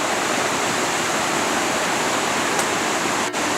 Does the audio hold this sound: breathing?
no